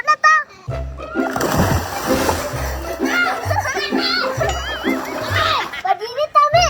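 Water splashes and sloshes as two young girls bathe, with children's excited chatter and laughter running over the wet slaps throughout.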